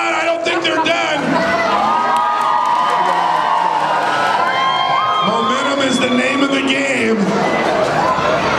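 Crowd cheering and shouting at a Tuff Trucks off-road truck event in Chehalis, Washington, a steady, loud wash of voices with whoops rising throughout, children's shouts among it.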